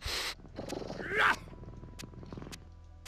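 A pet cat in the video game Torchlight 2 purrs and gives a short rising vocal sweep, fairly soft, over a low background hum.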